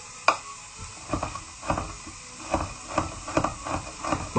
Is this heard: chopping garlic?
yes